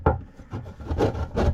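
A big Phillips screwdriver is worked through a mounting hole while a Motorguide Xi3 trolling motor is fitted to an Old Town Sportsman 106 kayak, making repeated close wooden rubbing and rasping scrapes in uneven bursts, with no talk.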